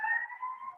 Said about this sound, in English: got some sirens.